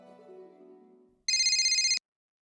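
A bright electronic phone ringtone sounds in one short burst, trilling steadily after a fading musical tone, then stops abruptly.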